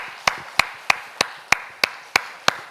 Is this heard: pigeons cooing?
no